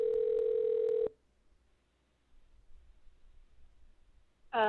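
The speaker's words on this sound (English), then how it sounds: "we will give a call to her right now" A telephone dial tone sounds for about a second and cuts off, followed by near silence with faint line noise, then a short burst of ringing or dialing tones at the end; no talk.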